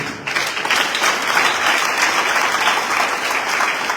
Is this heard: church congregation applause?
yes